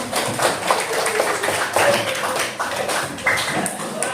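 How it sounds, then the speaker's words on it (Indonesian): A classroom claps for group 2: a dense, steady round of applause from many hands, loud and sustained for about four seconds. "tepuk tangan kelompok 2"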